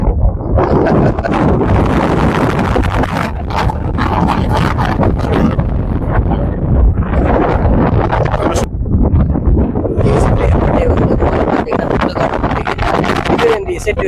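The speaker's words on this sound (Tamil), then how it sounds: "பேச முடியல, காற்று அப்படியே ஆழ தள்ளுது" Strong wind buffets the microphone outdoors at a farm at the foot of a mountain, producing a loud continuous rumbling roar with gusty surges, while someone talks underneath.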